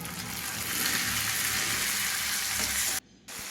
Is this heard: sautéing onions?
yes